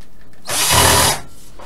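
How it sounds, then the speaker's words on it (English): A power drill whirs loudly in a single short burst of under a second, starting and stopping abruptly against quiet background. "This is a really good drill bit on here."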